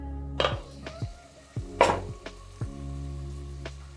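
Malabar chicken cooks in a kadai with a low sizzle, broken by a few sharp scraping and stirring strokes. The sound is close and moderately loud, with no one speaking.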